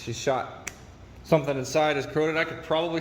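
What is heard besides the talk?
None of the usual background noises is heard.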